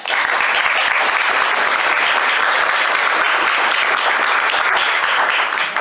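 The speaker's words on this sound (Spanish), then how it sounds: "lo recibimos con aplausos" A lecture audience at a Spanish-language book presentation applauds to welcome an arriving guest, a loud, sustained burst of clapping from many hands throughout.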